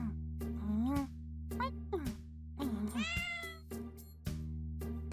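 A cat meows repeatedly in the video game Amatarasu Riddle Star, several rising and falling cries in a steady series, close and clear over a low background hum.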